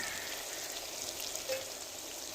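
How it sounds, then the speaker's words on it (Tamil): Onions and green chillies soften in oil in a pan for a fish curry, giving a faint, steady sizzling hiss with a small spatter partway through. "வெங்காயம் பச்சை மிளகாய் வதங்கி வந்துருச்சு"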